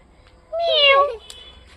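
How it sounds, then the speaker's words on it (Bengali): A cat lets out a single clear meow, close and moderately loud, lasting about half a second amid an otherwise quiet scene. "এই যে একটা বিড়াল বসে আছে শ্রীনিকা শ্রীনিজার বিড়াল এটা"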